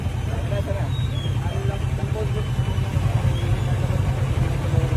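A motorcycle engine runs steadily at a roadside police checkpoint, a low continuous rumble with people talking over it throughout.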